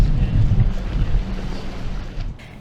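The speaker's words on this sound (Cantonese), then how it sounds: "不過風勢已經顯著增強" Strong typhoon wind gusting at the Lei Yue Mun shoreline with boats moored nearby, a low roaring buffet of wind against the microphone that rises and falls and eases toward the end.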